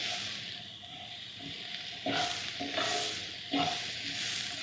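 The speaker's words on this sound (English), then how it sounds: "Now they're sizzling really nicely." Onions sizzle steadily in a frying pan, with several scraping stirs that swell the hiss in distinct surges, close and moderately loud, no talk.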